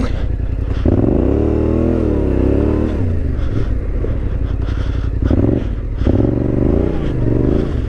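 A Yamaha Tenere 700 motorcycle is ridden with its engine close and loud, rising and falling as the throttle opens and closes in several distinct surges.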